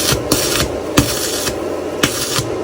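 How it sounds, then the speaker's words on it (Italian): A Weldinger EW 201 DIG PRO inverter welder strikes an arc with a small 1.6 mm electrode at low amperage, producing a close, steady crackling hiss broken by sharp recurring bursts. "questa saldatrice con un elettrodo così piccolo e con una impostazione di un amperaggio così basso comunque riesce a fare partire subito l'arco di saldatura"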